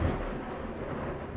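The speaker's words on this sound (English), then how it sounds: "let's listen to Reptain's Thunder audio there" A recorded thunder sound effect plays as a brief, deep, loud rumble that fills the low end and rolls on without a break, with no voices over it.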